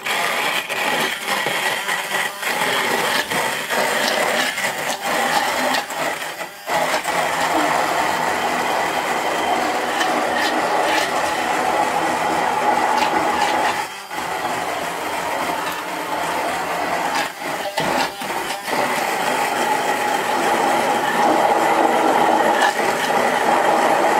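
Homemade yogurt made with bifidobacteria being whipped in a blender, a loud, steady whirring drone with a few brief dips and surges as the motor works through the mixture.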